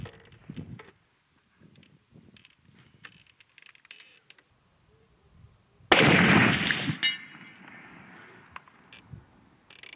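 A Hankins custom smokeless powder muzzleloader fires a 275 grain bullet outdoors: one sharp, loud report bursts out after quiet handling noises and rolls off into a lingering rumble, with faint clicks and rustles around it.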